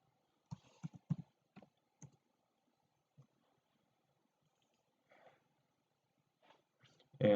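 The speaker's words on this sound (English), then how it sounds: "And then you can just type in what you need, what you need it to be." Computer keyboard typing during a Photoshop and After Effects workflow, heard as a few quiet clustered key clicks early on, then sparse faint taps, ending in a louder burst.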